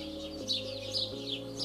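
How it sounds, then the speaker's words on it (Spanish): Birds chirp among pine trees on a golf course, repeated short high calls sounding moderately near over a steady low hum from background noise. "rodeados de una armonía de los pinos y de los pájaros"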